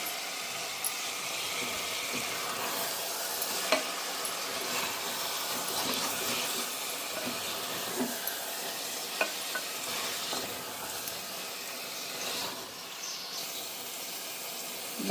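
Chicken pieces fry in a pan with a steady, continuous sizzle and occasional stirring scrapes, close and fairly loud, with no voices over it.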